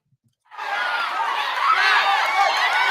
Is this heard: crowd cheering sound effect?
yes